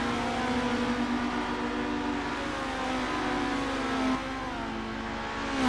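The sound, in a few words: race car engines in the video game Assetto Corsa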